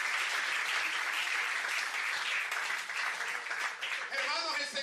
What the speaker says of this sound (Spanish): Aplaudo al Señor esta mañana